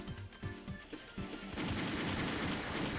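Pistol gunfire from the video game 88 Heroes: a run of quick shots and impacts that thickens into a dense, continuous barrage over game background noise.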